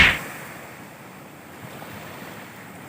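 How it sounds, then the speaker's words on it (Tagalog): Ocean waves at night on a beach in Masamirey, Pangasinan, a soft steady wash of surf mixed with wind noise on the microphone after a brief bump at the start, with no voices. "abangan natin yung agos ng dagat. Yung alon pala."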